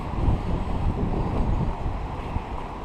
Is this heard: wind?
yes